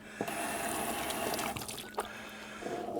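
Tap water runs steadily into a sink as buttermilk-marinated steaks are rinsed underneath, a continuous splashing hiss with a brief break and a slight shift in flow near the end, close by.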